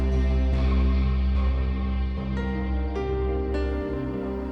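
A thick, sustained drone from a Korg Wavestate mkII synthesizer with a deep, buzzing low end, holding steady while new layers of tone shift in over it.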